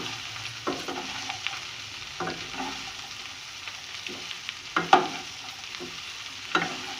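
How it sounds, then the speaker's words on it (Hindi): Okra being stirred with powdered spice masala in a pan, with soft scraping strokes at irregular intervals over a low, steady sizzle and no talking. "ये डालकर मसाले मैं इसमें बहुत अच्छी तरह से मिक्स कर दूँगी, सब जगह मिक्स हो जाए।"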